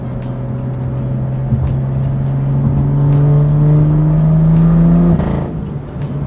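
A Porsche pulls away nearby with a steady engine drone that rises gradually in pitch and loudness as it accelerates, then drops off abruptly as it leaves.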